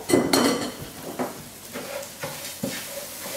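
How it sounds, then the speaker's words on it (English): Washed basmati rice with turmeric fries in butter in a pan over high heat. A utensil scrapes and clinks in several distinct strokes over a low sizzle, fairly close, with no talking. "Turn up the heat so that the rice fries in the butter."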